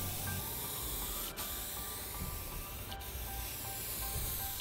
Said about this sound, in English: give the entire thing a coat of Krylon Clear Acrylic Flat Spray Paint